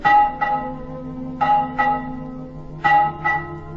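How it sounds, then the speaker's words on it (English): Three pairs of bright strikes on a widow bell ring out, each pair a quick double chime with lingering harmonic tones that fade slowly between hits. "And he picked up the widow bell"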